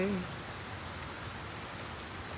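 Steady rain falls on a night street in Detroit, Michigan, a constant soft hiss of drops with no breaks, even and moderately close, with no voices.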